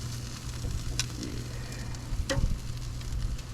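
Chicken wings sizzle on a hot grill, a quiet continuous crackle and hiss with a low steady hum beneath and a couple of sharp clicks, and one brief spoken word.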